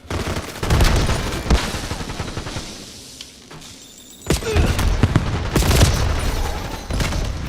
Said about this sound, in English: The stupid grenades.